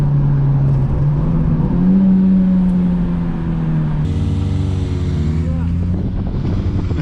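Motorcycle riding past on a street, heard from inside a cruising car: a steady engine drone whose pitch rises and shifts midway, with wind noise throughout.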